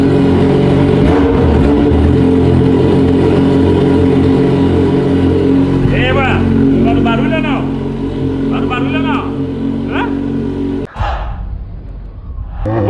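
An XJ motorcycle engine runs loud and close with a steady droning idle, while people talk over it through the middle; the engine sound then cuts off abruptly near the end.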